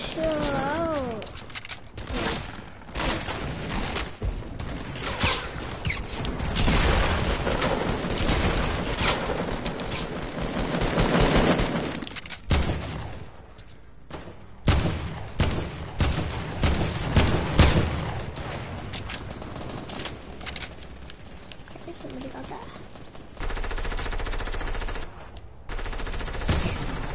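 Rapid video game gunfire rattles in repeated automatic bursts and single shots, loud and dense through most of the stretch, mixed with game effects and occasional voices talking over the action.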